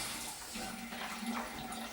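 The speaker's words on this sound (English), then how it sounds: "that's going to allow us to drain the water heater" Water running steadily from the drain valve of a gas water heater, a continuous rushing flow close by with no talk over it.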